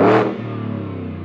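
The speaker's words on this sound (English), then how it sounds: "We have the Borla Ford Performance exhaust on this." A supercharged V8 Ford F-150 with a Borla Ford Performance exhaust revs loudly up front and then settles into a steady, throaty idle, heard from outside the truck.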